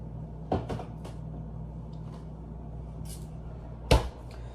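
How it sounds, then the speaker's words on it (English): A home freezer door opens and thumps shut, two short clunks a few seconds apart in a quiet kitchen. "Pop this in the freezer."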